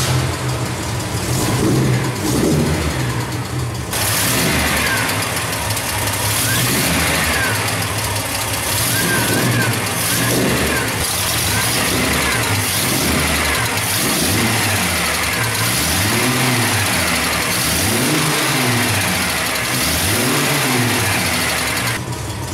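Chevy Coupe 250 SS engine starting and revving, a loud close rumble that catches and then rises and falls in repeated throttle blips over a steady idle, with no talk.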